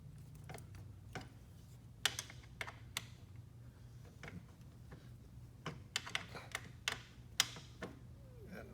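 A floorboard adjuster on a Can-Am Ryker is cranked in by hand, quiet irregular ratcheting clicks and ticks spaced out over a faint low hum, close by and soft.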